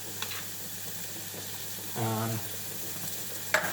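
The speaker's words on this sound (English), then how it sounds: "for dairy butter, you're kind of going to go through multiple phases of it melting and caramelizing" Dairy butter melting and caramelizing in a pan while being whisked, a faint steady sizzle with a brief louder bubbling burst midway and a sharp clink near the end.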